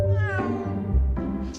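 A cat meows in a Florida guesthouse setting, a drawn-out, wavering call close by, followed by a second shorter meow.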